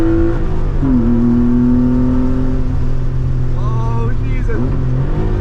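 A wide-body Porsche engine revs hard under acceleration on an Irish road, a loud steady droning roar with rising pitch sweeps as gears shift, heard from inside the car while a voice exclaims briefly.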